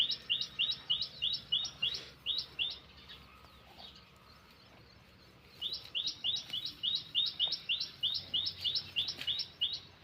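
Rapid repeated sparrow chirps in quick bursts in a village, close and fairly loud, pausing briefly midway before resuming in a long rhythmic series.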